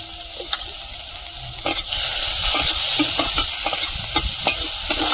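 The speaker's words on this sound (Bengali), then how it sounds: "চিংড়িটা একটু সময় নিয়ে ভালোভাবে ভেজে নেব" Prawns fry in a little oil with a steady sizzle, punctuated by repeated scraping stirs of a spatula against the pan, close and fairly loud with no one speaking.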